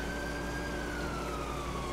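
An ambulance siren wails faintly and distantly in the video game GTA IV, a steady descending tone over low background hum.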